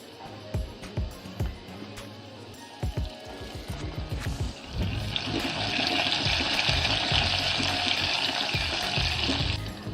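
A few light knocks against a pan, then a steady, loud sizzle as curry leaves hit hot oil with garlic paste for a Maharashtrian shev bhaji, the frying hiss continuing unbroken.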